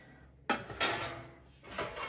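A few light metallic and plastic clatters as a kitchen basket is pulled out and set down, close and fairly quiet.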